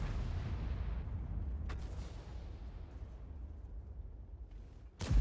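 Heavy tank cannon fire from a VK 45.02 B in the game World of Tanks rumbles as a deep boom fading at the start, followed by a sharp second shot near the end.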